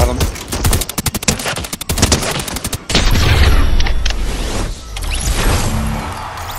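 Gunfire in the video game Fortnite cracks in a rapid burst of loud, evenly spaced shots, then gives way to a heavier boom and noisy action.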